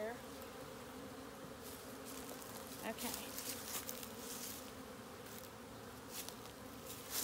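Dense, steady buzzing of many honey bees close by at a top bar hive, a constant droning swarm with a brief quiet word spoken partway through.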